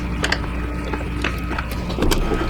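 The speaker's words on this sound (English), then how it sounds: "So this bolt we're taking out all the way." Ratchet wrench clicking in quick bursts while backing out suspension bolts on a Honda Odyssey with a broken spring, close and distinct with brief pauses between runs of clicks.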